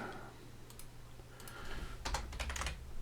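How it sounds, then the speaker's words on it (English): Fingers type on a computer keyboard, starting with sparse, scattered key clicks and building into a denser, faster burst of close, crisp keystrokes. "apparently I was typing something"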